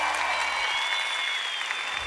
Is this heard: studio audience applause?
yes